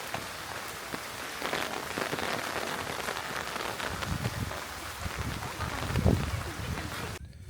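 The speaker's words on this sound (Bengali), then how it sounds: "তো বৃষ্টির ভিতরে এইভাবে কাঁচা রাস্তা দিয়ে হাঁটতে কার কার ভালো লাগে?" Steady rain patters on a dirt road and nearby surfaces, a dense constant hiss with occasional heavier drops, continuing throughout.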